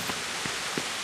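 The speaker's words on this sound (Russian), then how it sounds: "Ночь, дождик. Обожаю дождь." Rain falling at night in the video game Kingdom Come: Deliverance, a steady dense hiss of downpour with a few soft droplet patters, continuous and even, without talk.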